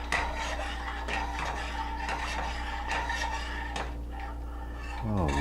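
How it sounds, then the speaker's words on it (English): A spoon stirs evaporated milk into a chile con queso soup base in a pot, producing repeated scraping and clinking strokes against the metal at a moderate, uneven rhythm, close and fairly quiet, with a low steady hum beneath. "Let's go ahead and stir that in as we go."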